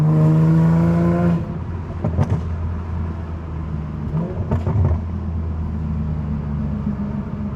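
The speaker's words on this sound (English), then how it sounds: "so you can pick up some of what the tires sound like" Steady road noise from a moving Dodge Viper on new tires, a low rumbling whir of tires rolling on pavement with a few brief clicks and bumps, no talking.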